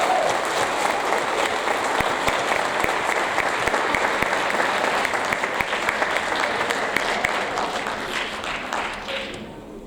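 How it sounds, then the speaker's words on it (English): An audience at a sixth grade awards ceremony applauds students, dense sustained clapping from many hands that tapers off at the end. "Let's go ahead and give those students a round of applause"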